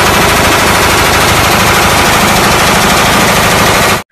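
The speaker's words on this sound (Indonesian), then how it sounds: "Ini tembak-tembakan." A toy gun fires a continuous, loud rapid-fire burst like a sound-effect machine gun, steady for about four seconds and then cutting off abruptly.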